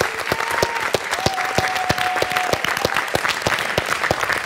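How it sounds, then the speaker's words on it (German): Steady applause from a group, many hands clapping at a brisk, even pace, with a couple of faint whistles over it. "Dein Applaus von uns allen."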